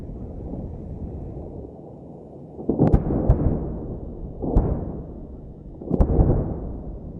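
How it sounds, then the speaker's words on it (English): Enormous bombs exploding on compounds in Afghanistan during a heavy ordnance drop: a steady low rumble rises into several deep booming blasts with sharp cracks, around three main impacts spaced a second or so apart, loud and rolling. "Enormous bombs smash into the compounds where the firing's been coming from."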